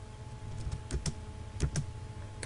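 Computer keyboard keys tapped while entering AutoCAD commands, a few light, close clicks spaced out in small pairs over a faint steady hum, with no talking.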